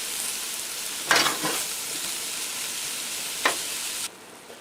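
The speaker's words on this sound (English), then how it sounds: "I'm going to get them in that oil, and I'm going to fry them over medium-low heat for about 5 minutes" Sliced mushrooms frying in oil over medium-low heat for Pork Marsala, a steady close sizzle with two brief louder bursts as they are stirred, then the sizzle drops off near the end.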